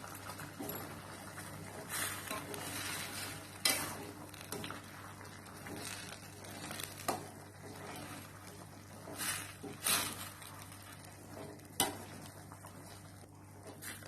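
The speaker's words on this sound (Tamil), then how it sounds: "ஆட் பண்ணிட்டு நல்லா கலந்து விட்டுக்கோங்க." Fried cabbage is stirred in a frying pan for a roadside kalan dish, with a continuous soft sizzle and utensil scrapes broken by occasional sharp clinks against the pan, heard close.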